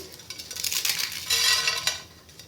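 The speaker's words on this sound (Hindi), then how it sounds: "इसके अंदर हमने हाथ से ही मैगी को क्रश करके" Maggi instant noodles crushed by hand into a lightly oiled pan, heard as close, dry crackling and crumbling with a few light clinks against the metal, rising in the middle and tapering off.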